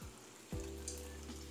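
Bacon sizzles in a frying pan with a steady, quiet crackling hiss, broken by a soft thump partway through as it is turned.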